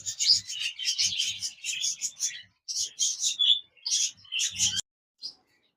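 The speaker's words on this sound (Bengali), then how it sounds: "জাপানিজ বাজরিকা রয়েছে রানিং পেয়ার চমৎকার এই পেয়ার জোড়া" A pair of Japanese budgerigars chirp and chatter in a cage, making loud, close bursts of high twittering in quick runs with short pauses and a brief silence near the end.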